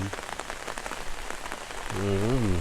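Rain falls steadily on a surface during a storm, a constant hiss and patter through the clip, joined near the end by a louder humming tone.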